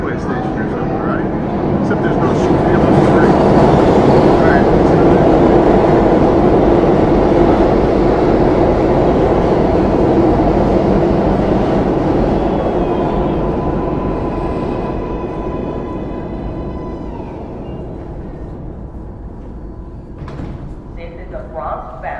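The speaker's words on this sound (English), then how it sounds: "Sounds like a subway station or something, right?" A subway train in a New York station gives a heavy, loud rumble that swells, holds and then slowly fades, with a door-like rattle and voices in the background.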